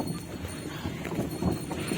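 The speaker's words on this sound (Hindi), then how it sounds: "घोड़ा गाड़ी चल पड़ी" Horse hooves clip-clop in a quick, steady rhythm as a horse-drawn carriage rolls along at a village ashram, close and moderately loud with light background noise.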